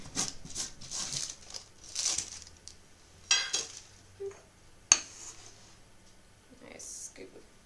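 Sugar package crinkling open, then a scoop digging into loose sugar in a home kitchen during pumpkin pasty baking: close, intermittent papery rustles and sharp gritty scrapes with short pauses between them.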